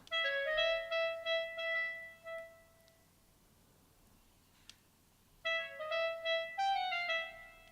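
A solo clarinet plays the second clarinet part of a theme, quiet, thin phrases of repeated short notes, pausing for a few seconds of near silence before a second phrase returns.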